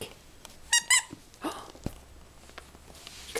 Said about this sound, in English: Oh, your mama loves squeaky toys.